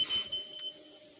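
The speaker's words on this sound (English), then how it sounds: "there goes the fire alarm in the cabin" Cabin smoke alarm triggered by wood stove smoke, sounding a short high electronic beep or chirp indoors, moderately loud and brief, with no talk over it.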